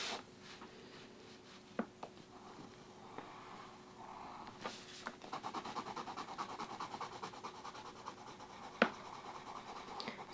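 A colored pencil with a fairly hard lead, white among the colors, scratches across paper in soft, quiet strokes, with a few sharper taps and a denser run of scribbling toward the end.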